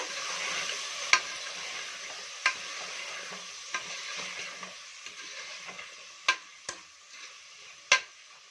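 Fresh pigeon peas and vegetables stirred in oil in a pan: a soft frying hiss runs underneath while a spoon scrapes and taps the metal in irregular sharp clicks, close and alone without speech.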